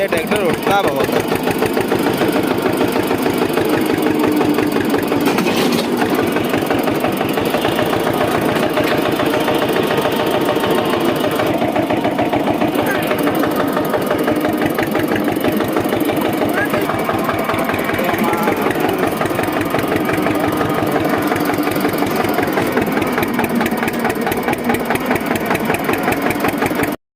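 An Eicher 241 tractor engine runs through a field tillage job, a loud, close, steady diesel chug with a rapid knocking rhythm that never lets up, while someone talks over it.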